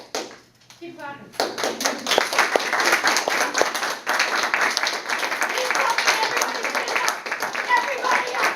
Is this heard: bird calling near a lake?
no